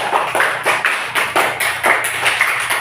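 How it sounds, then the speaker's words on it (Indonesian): Classroom applause for a student group: rhythmic, fairly loud hand clapping in regular bursts, with a faint hum beneath and no talk. "Bagus, tepuk tangan kepada kelompok 3"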